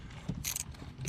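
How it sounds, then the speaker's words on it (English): Ratchet socket wrench fitted with a swivel and extensions working on spark plugs of a 2008 Ford F150, a few quick metallic ratcheting clicks up close within about a second. "Got the socket to the swivel to both extensions."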